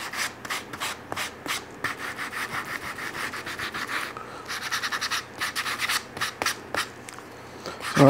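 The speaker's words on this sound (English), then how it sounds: "Now to do everybody's favorite thing, sanding." Rhythmic hand sanding of a wooden shoji lamp frame, brisk back-and-forth rasping strokes repeating steadily and close up, with no talking.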